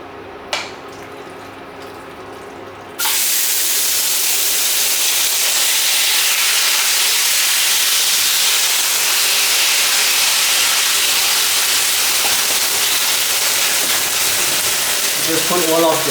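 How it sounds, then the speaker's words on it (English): Lamb chops dropped into hot olive oil in a very hot wok, a sudden loud sizzle that stays as a dense, steady hiss, close up, with brief handling noises before it. "So now the wok is very hot and I also added in some olive oil we can put in our lamb chops"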